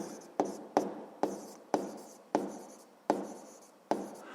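Pen writing on paper while a grade 7 physics problem on momentum conservation is worked out, heard as a close, quiet run of about eight scratchy strokes at a steady pace with no talk over them.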